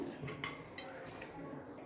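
Grated green mango chutney, a pounded rolu-style relish, is scooped into a metal bowl, with soft clinks and scrapes of a utensil against metal scattered through a short, fairly quiet stretch.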